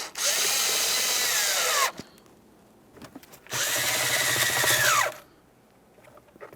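A power tool drives mounting bolts during a combination switch replacement on a 2003-2008 Toyota Corolla, two whirring bursts of about two seconds each with a quiet pause and small clicks between them.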